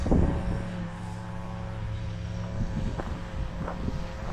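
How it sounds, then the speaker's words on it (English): A string trimmer runs somewhere behind a cemetery, giving a steady, droning motor whine that stays fairly distant and continuous throughout, with no speech over it. "You can hear the trimmer in the background."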